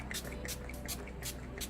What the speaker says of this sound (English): spray my face with the Mario Badescu facial spray with aloe, herbs, and rose water